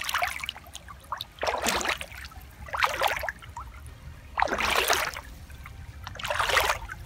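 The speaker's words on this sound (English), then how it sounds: "I can wash my feet this way." Water trickles and splashes in bursts as bare feet are washed in a cold countryside stream in autumn, close and gentle against a low outdoor background hum.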